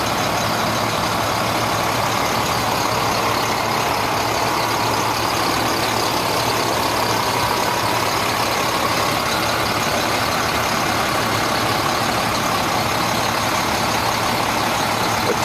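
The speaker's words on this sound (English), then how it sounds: "have a 2003 International 4300 with a 2800 gallon by two compartment aluminum tank." A 2003 International 4300 fuel truck with a DT466 diesel and a two-compartment aluminum tank idles steadily, a constant low rumble with a dense, unchanging hiss and no voices.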